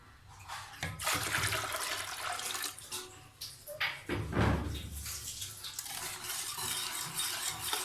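Water splashes and churns as it is poured into gram flour batter and stirred in a pot to a thin mix, a busy, close, gurgling wash of sound with occasional clinks.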